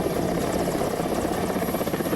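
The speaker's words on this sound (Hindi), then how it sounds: "बाढ़ में फंसे युवक के पास हेलीकॉप्टर पहुंचा।" A helicopter hovers over a flood rescue of a young man stranded in floodwater at Khutaghat weir in Bilaspur, Chhattisgarh; a steady, loud rotor drone fills the whole moment without pause, with no talk.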